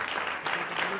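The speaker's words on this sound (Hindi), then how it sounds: "जोर से ताली बजाएंगे आज खुदा के कलाम को" Church congregation clapping loudly during a sermon, a dense steady wash of applause filling the whole second without pause.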